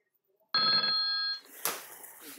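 A telephone rings once in an office, a loud bright electronic trill lasting about a second, followed by a faint clatter as the handset is picked up.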